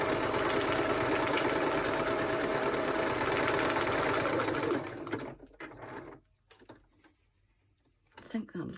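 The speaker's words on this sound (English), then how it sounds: "we're going to have some hand stitching, sew stitching and machine stitching in this" A sewing machine stitching through paper ephemera runs steadily in a loud, continuous whir for about five seconds, then stops, leaving faint handling noises and a brief burst of activity near the end.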